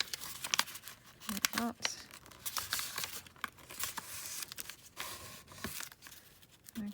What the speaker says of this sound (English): So I'm just going to tear this off